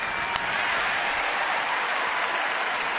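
A baseball stadium crowd at Baltimore applauds and cheers steadily, a dense wash of distant clapping and voices throughout, with a faint sharp crack early on.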